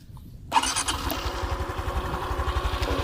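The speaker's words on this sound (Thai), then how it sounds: "เราลองมาสตาร์ทแล้วก็ฟังเสียงดูครับ" After a brief quiet moment, a 2022 Honda Wave 110i motorcycle engine is electric-started, cranks and catches, then settles into a steady, throbbing idle close by.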